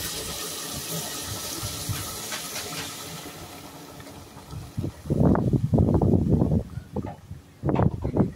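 Hot water poured over pork innards for Iloilo-style dinuguan, steady steamy hiss at first, then loud, close, gushing splashing pours in bursts near the end.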